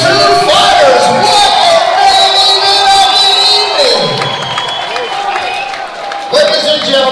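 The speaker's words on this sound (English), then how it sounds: "big round of applause for these two fighters" Loud arena crowd at an MMA event cheering, whooping and clapping for two fighters after a bout, with a ring announcer's amplified voice talking over the noise throughout.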